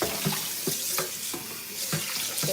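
Tap water runs into a kitchen sink while fish are washed for a Jamaican oven roast fish, a steady splashing stream broken by repeated sloshes and knocks as the fish are handled.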